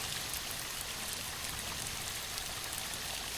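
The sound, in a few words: waterfall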